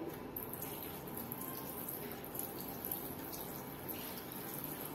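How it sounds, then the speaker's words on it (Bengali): A steady stream of tap water runs without a break into a sink while hands are washed, a soft, even splashing rush with no voices. "দাঁড়াও একটু হাতটা ধুয়ে নিলাম।"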